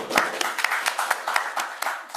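A small audience at a church gathering claps together, sparse sharp hand strikes in a loose rhythm lasting about two seconds, fairly close and moderately loud.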